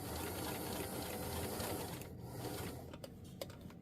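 A sewing machine runs steadily, stitching a New Look 6603 garment, a continuous whirring drone that thins out partway through with a few brief clicks near the end.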